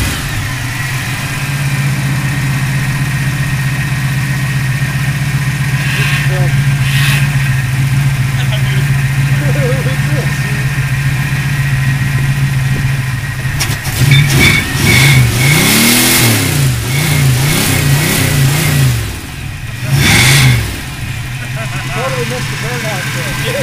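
A car engine on a cold start idles with a steady drone, then revs up and down in several rising and falling surges, with people talking nearby over the engine noise.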